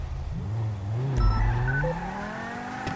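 A car engine hums steadily while tires squeal briefly, like a police car cornering at speed in the video game GTA V roleplay server NoPixel; no one speaks.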